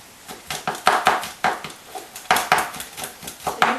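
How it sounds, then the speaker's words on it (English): A knife chops garlic finely on a board for butter chicken, giving a quick irregular run of close, crisp taps and clacks that cluster in short bursts. "Chop it as fine as you can"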